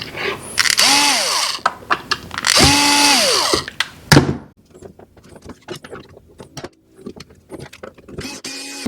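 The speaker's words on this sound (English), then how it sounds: "Just torquing these down to whatever the 8 setting on this Ryobi is." A Ryobi power tool tightens bolts on a pond pump, its motor whirring up and down in loud, close bursts, then giving way to quick ratcheting clicks and small handling knocks.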